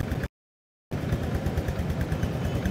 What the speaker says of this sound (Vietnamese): âm thanh rất là hay, máy 90, bô 90, rớt giò là nổ